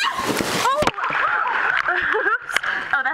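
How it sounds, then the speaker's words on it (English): Water splashes and sloshes in quick bursts near the start, followed by excited voices talking and squealing over dripping and lighter movement. "Thanks for the splash, stupid"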